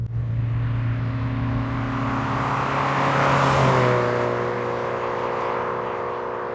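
A Citroën Saxo VTS hatchback cruising at about 60 mph, its engine holding a steady droning hum with strong harmonic tones that swell slightly and shift pitch midway as the revs change, accompanied by road and wind noise and no speech.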